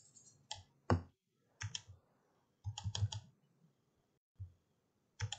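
A computer mouse clicks in small clusters of sharp, close ticks separated by quiet pauses, with no voices.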